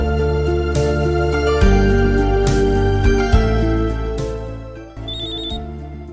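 A cellphone rings with a bright, repeating electronic ringtone melody that plays alone and fairly loud, its tones stepping up and down in a steady pattern.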